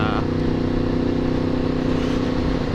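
A Yamaha MT-10 (FZ-10) with a Yoshimura exhaust revs hard under load, its loud, close engine roar holding steady through a quick-shifter upshift, with a brief change in tone near the start.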